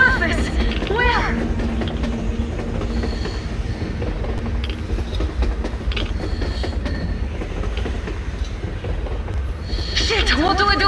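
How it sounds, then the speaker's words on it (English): Train rolling across the surface in the video game Metro Exodus, with rumbling wheels and metallic squeals, heard steadily under game ambience and mixed with other sounds throughout. "A train! A damn train on the surface!"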